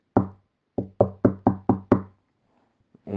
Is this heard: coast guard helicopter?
no